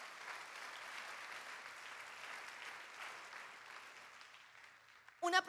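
A church congregation claps steadily for about five seconds, a dense even wash of many hands at moderate level that fades near the end, followed by a brief louder burst of a nearby sound.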